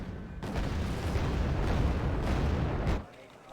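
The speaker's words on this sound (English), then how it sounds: "I guess we can bombard that." Artillery bombardment in the Wargame: Red Dragon strategy game, a dense, sustained roar of overlapping booms and blasts lasting about three seconds before cutting off abruptly.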